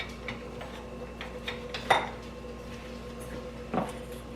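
Metal measuring spoons clinking and rattling as someone rummages for a smaller quarter-teaspoon measure, light scattered clinks with two sharper clatters, no speech.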